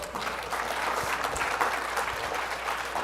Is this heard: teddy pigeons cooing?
no